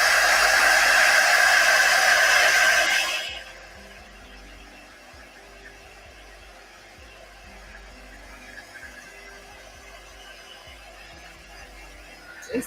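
A hair dryer dries chalk paste on a 9x12 pallet sign, blowing loud and steady for about three seconds before cutting off, leaving faint room noise and small handling sounds.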